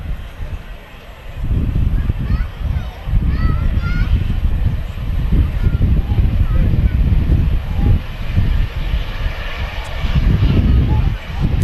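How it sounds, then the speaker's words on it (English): EasyJet Airbus A320 arriving at Manchester Airport, a steady loud engine roar filling the scene with broadband rumble that swells and holds throughout, no talking over it. "The EasyJet arriving here."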